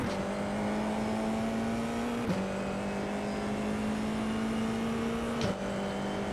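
A race car drives a lap with a steady engine drone heard from onboard. The pitch drops sharply twice as it shifts gears, then climbs again.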